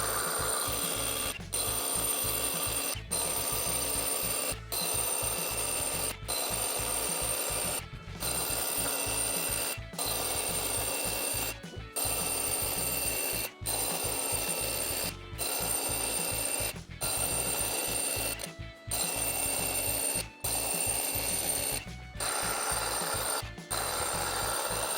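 A Hilti TE 60-22 Nuron cordless hammer drill bores 22 mm holes into concrete, a steady, fast rattling hammer rhythm that runs close and continuous, broken by short regular pauses.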